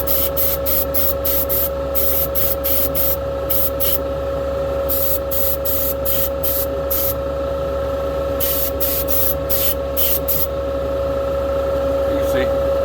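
Primer sprays onto race-boat shocks and drive shafts in short, sharp hissing bursts, fired in quick clusters with brief gaps between them, over a steady low hum in the workshop.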